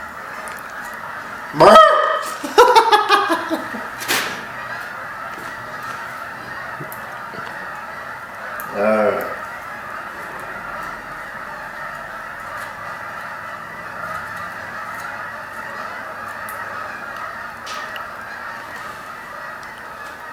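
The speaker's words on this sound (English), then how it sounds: "We have a lot of geese flying over." Geese honk as they fly overhead outdoors, a burst of several calls early on followed by a fainter lone honk, with a short spoken word in between over steady background noise.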